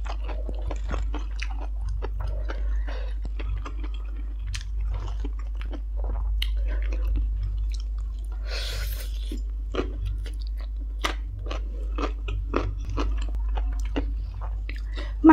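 Close, crisp crunching and wet chewing of crunchy vegetables eaten with stir-fried instant noodles, in a steady run of repeated bites over a low background hum, with no talking.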